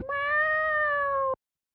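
A single clear cat meow, drawn out for a little over a second, close and fairly loud, then cut off into silence.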